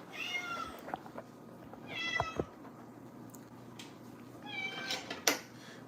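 A house cat meows near a kitchen where steak is being cooked, three or four separate calls spread across a quiet room, one at the start, one in the middle and a longer pair near the end.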